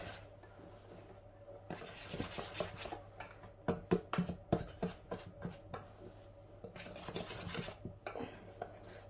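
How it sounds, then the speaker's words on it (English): A whisk beats pizza dough ingredients in a bowl, starting as soft scraping and then breaking into a run of quick, sharp clinks and taps against the bowl's sides, fairly quiet and close, with no talk over it. "So I'm going to whisk all these ingredients together, just so they're properly incorporated."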